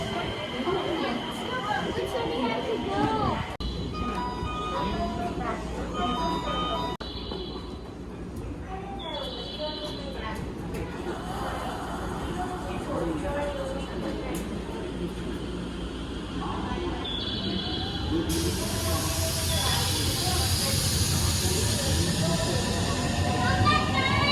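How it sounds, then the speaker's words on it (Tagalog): A cargo train passes by, its steady rumbling and rolling noise filling the whole clip and growing louder and brighter toward the end, with people talking over it. "Cargo train, dumaan yung cargo train."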